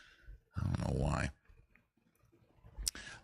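One-handed typing on a computer keyboard, quiet scattered clicks beneath louder bursts of nearby noise and a voice.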